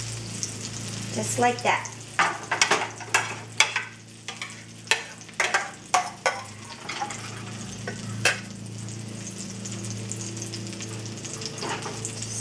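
Eggplant omelette (tortang talong) frying on a skillet, a steady close sizzle broken by sharp spatula scrapes and taps, with a brief spoken remark.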